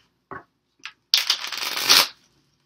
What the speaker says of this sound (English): They're getting these all mixed up. Shuffled.